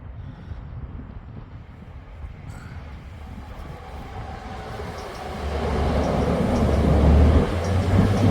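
A train rumbles past on a viaduct in Leeds with a low, steady roar that builds louder toward the end, heavy wheels droning on the rails.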